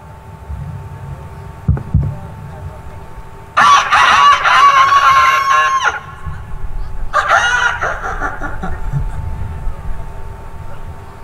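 A man imitates a rooster's alarm call, the cry a cock gives when a stone is thrown at its hens, in two loud bursts of harsh squawking separated by a short pause, with low background noise between.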